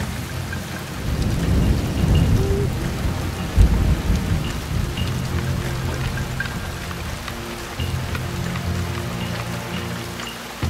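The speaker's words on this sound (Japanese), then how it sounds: "雨はわしを止められんじゃろう。" Steady rain with rumbling thunder in a stormy night scene from the stealth video game Shadow Tactics: Blades of the Shogun, a continuous loud downpour with deep low rolls of thunder throughout.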